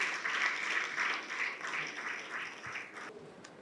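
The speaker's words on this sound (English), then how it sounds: "A round of applause, please." Audience applause at a business-scaling panel event in Lagos, a steady crowd clapping that holds for about three seconds before thinning out near the end.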